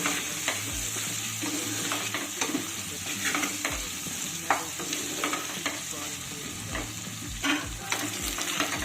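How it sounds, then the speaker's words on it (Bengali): Potato pieces dusted with a little turmeric fry in oil in a kadai, giving a continuous close sizzle broken by repeated scraping stirs of a spatula against the pan. "খুব সামান্য একটু হলুদ দিয়ে দিলাম এবার আলুগুলোকেও লাল করে ভেজে নিতে হবে"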